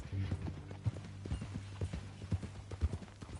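Horse hooves clip-clop at a steady walking rhythm in the Western game Red Dead Redemption, a series of sharp, fairly close hits over a low steady hum, with no talking.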